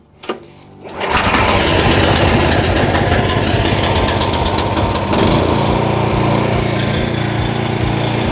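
JCB petrol jet washer engine starting: a pull-start rattle, then the motor catches and runs at a loud, steady buzzing roar close by, with no talk over it.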